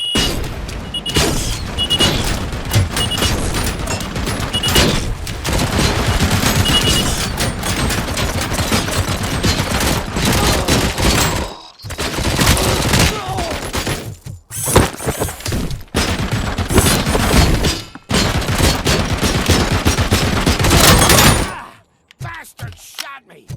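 Gunfire in RoboCop: Rogue City: dense, loud automatic bursts and booms rattle on almost without pause, with a few brief gaps, before cutting off near the end.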